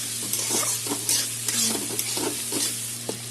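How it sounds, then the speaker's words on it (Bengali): Ginger stir-fried in a pan for Bengali fried rice after carrots, beans and green chillies, with steady close sizzling and repeated scrapes and clinks of a spatula stirring, no talk. "আদাটা মোটামুটি ভাজা হবে"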